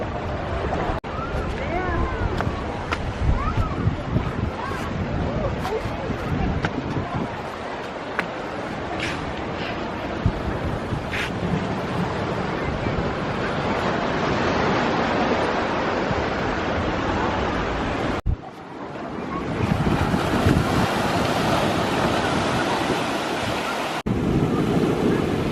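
Surf washes steadily onto the hidden beach at Corona del Mar while gusty wind buffets the microphone, a dense roar that swells louder near the end.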